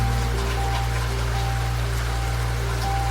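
Steady rain patters against a train window on a coastal night line, a dense continuous hiss with a low constant rumble of the moving carriage underneath and faint tonal hums, no talking.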